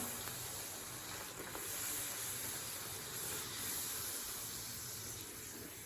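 Beetroot poori fries in hot oil, a steady close hiss and bubbling that stays even throughout.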